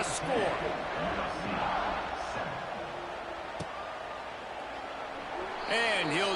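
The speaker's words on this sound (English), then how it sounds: "this crowd is buzzing after that last score" Stadium crowd in a college football video game, TCU vs USC, buzzing with a steady roar and scattered cheers after a touchdown, with a commentator's voice running over it.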